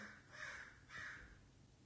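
Two faint crow caws from outdoors, spaced about half a second apart, distant and quiet against a soft background, with no voices.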